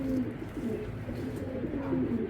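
A foreign racer pigeon, a blue checker, coos in low, steady murmurs that carry on through the whole stretch at moderate level, with no talk over it.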